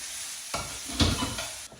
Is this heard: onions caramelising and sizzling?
yes